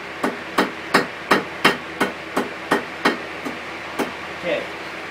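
A hand hammer strikes hot steel at the edge of an anvil while forging a steel leaf, about a dozen sharp ringing blows in a steady rhythm, close and clear, fading slightly toward the end.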